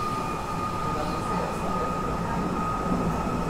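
A subway or metro train rolls along the rails with a steady, loud rumble and a high metallic whine that holds for several seconds, close by and continuous.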